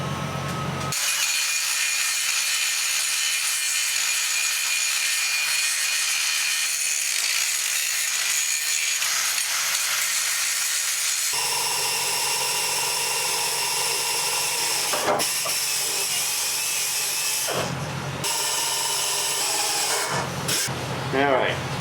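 A rotary burr grinds and hollows out metal to prepare a joint for brazing, producing a loud, continuous high-pitched whine that shifts in tone, with brief breaks near the end.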